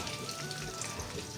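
Chopped onions and green chilies hit hot oil in a pan, a dense, steady crackling sizzle that fills the short moment without a break, close and fairly loud.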